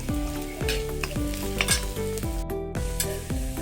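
Chopped tomatoes frying in a pan with turmeric being stirred in, a steady sizzle under repeated scraping strokes of a spoon against the pan that come in an even rhythm, close and fairly loud, with no talk.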